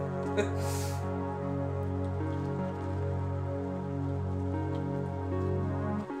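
Steady rain ambience with a soft hiss under sustained, droning analog synth tones that hold a low chord throughout; no voices.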